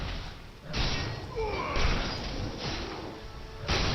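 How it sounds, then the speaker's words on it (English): Grotesque enemies bursting apart in a chain of explosions in Diablo 3, several heavy, crashing blasts over a continuous roar of game combat noise, with no voices. "because again, these guys will explode."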